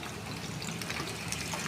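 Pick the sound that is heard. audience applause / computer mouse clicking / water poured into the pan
water poured into the pan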